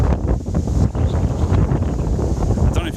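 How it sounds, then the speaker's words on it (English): Strong wind buffeting a phone microphone on a countryside walk outdoors, a loud, close, continuous low rumble with gusty surges and brief dips, no voice over it. "it's windy out today. And I've not got my muffler"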